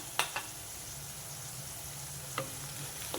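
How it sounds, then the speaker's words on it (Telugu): Onions fry lightly in a pan for chicken gongura curry, making a soft, even sizzle with a few quick spatula taps scattered through. "ఇవి ఇంకొంచెం వేగాలి గోంగూర వేస్తున్నాం కదండి ఉల్లిపాయలు ఎర్రగా వేపుకోవద్దు"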